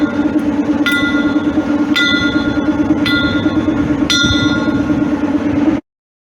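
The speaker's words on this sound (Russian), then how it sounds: "на этой станции с обеих сторон имеется станционный колокол, который даже можно позвонить" A railway station bell at Kazatin station in Ukraine rings four times at roughly one-second intervals, clear metallic strikes over a steady low mechanical hum that ends abruptly.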